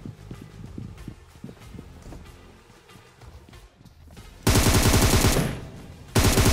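Rapid bursts of automatic gunfire from a BGMI battle royale shootout, loud and close, with quieter scattered game noises and footsteps before the firing erupts in two dense volleys.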